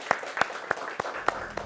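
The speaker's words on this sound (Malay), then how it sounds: "Okey, berikan tepukan untuk diri sendiri." A Form 4 history class clapping for themselves: a handful of sharp, separate claps land at uneven intervals instead of a full round of applause.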